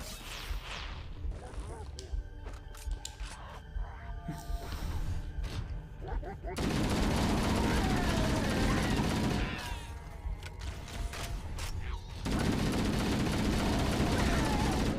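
Sustained gunfire from a Halo: Combat Evolved firefight, dense bursts of shots filling the mix loudly from midway on, with a player talking over the earlier part.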